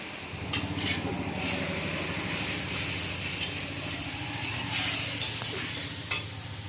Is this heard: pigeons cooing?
no